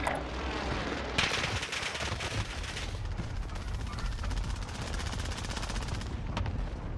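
Dense automatic gunfire rattles in a Call of Duty: Warzone firefight, rapid overlapping bursts and machine-gun volleys continuing for about seven seconds at moderate loudness, with no voices over them.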